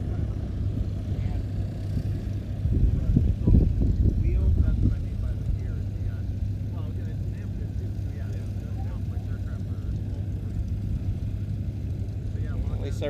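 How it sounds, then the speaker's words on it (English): Volmer Jensen light aircraft engine idling among arriving planes at the Oshkosh airshow, a low, steady drone with a louder rumbling swell near the middle, picked up from a distance under continuous outdoor background noise. "At least everybody can get the engine sounds here on the laptop microphone for a minute."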